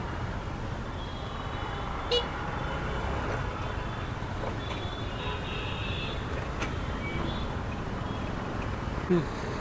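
Busy road traffic rumbles steadily nearby at night, with a few brief car horn toots standing out over the continuous engine noise.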